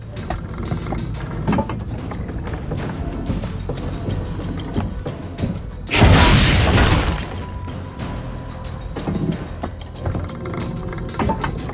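A single loud cannon boom bursts out midway over a busy, noisy Assassin's Creed Brotherhood game soundscape with mechanical clatter before and after.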